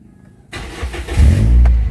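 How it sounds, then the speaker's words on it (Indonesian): A 2012 Toyota Vios sedan engine cranks and catches after a brief quiet pause, then settles into a loud, steady, smooth idle close to the listener. "mesin halus kita akan nyalakan"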